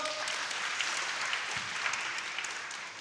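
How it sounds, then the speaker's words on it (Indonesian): A church congregation claps during a Kingdom Celebration service, dense even applause from many hands filling the room at a moderate distance, sustained without a break. "Tepuk tangan saudaraku"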